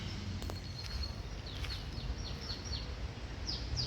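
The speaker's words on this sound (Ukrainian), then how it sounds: "і пташки співають" Birds chirp in a seaside park near the beach, several short high calls scattered across the clip, fairly faint over a low background rumble of traffic and surf.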